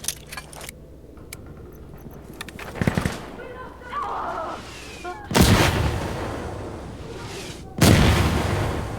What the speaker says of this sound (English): Get smoke artillery to fire right there!